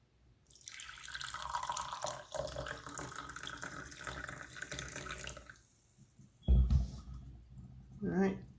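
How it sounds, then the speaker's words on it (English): Brewed Kentucky coffee tree drink pours from a plunger press into a cup, a close, steady liquid trickle for several seconds, followed by a couple of soft thumps. "so we're going to go ahead and plunge it and pour it."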